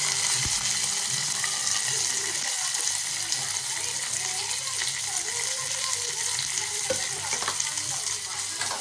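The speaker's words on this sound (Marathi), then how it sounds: "आता ऑइल मध्ये आपण काजू परतून घेऊया।" Cashews being fried in oil in a pan, giving a steady, close hiss of frying with occasional faint stirring movements and no voices.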